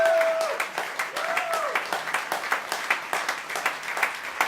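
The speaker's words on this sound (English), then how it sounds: "So a big round of applause for being here." Applause from a jazz festival audience for New York Italian all-star musicians, a burst of clapping that starts loud, dips, then settles into steady, slightly uneven claps, with a brief sung or whistled tone at the start.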